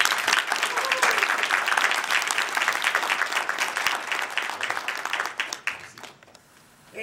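Applause at a Lockport city council meeting honoring a young chess player, a dense burst of clapping that carries most of the clip and then thins out abruptly near the end.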